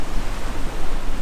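Ocean waves wash up a beach just before sunrise, a broad rushing surge that swells and eases over a short moment, close and fairly loud with no one talking.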